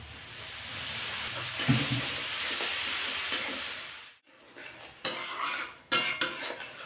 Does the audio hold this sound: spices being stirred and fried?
yes